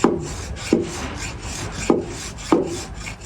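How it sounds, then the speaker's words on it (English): A sharp hand file rasps across a worn Land Rover gearbox casing to flatten it, four firm strokes at a steady, unhurried rhythm, close and clear with no talk. "I'm just going across this with a good sharp file, keeping it really flat"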